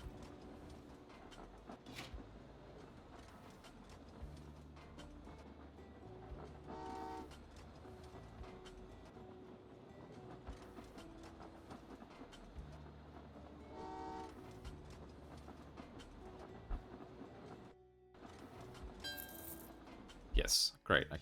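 Trains running in the Train Valley 2 video game, with steady rumbling rail noise and brief horn-like toots, under continuous game audio and music.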